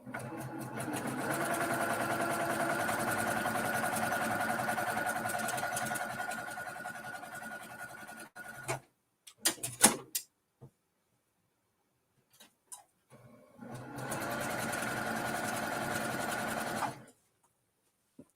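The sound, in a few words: sewing machine stitching along quilt lines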